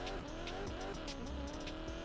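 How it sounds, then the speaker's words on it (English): A roaring drag car engine in the video game Need for Speed Payback revs and shifts continuously, with tire squeal and a steady loud mechanical drone throughout. "I really love the way this car sounds. It's a freaking beast."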